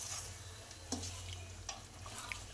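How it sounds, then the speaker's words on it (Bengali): Red sauce chicken pasta sizzles in a pan at home, a quiet, steady frying hiss broken by a few soft clinks of a utensil stirring against the pan. "পাস্তা বানানো হচ্ছে, রেড সস চিকেন পাস্তা।"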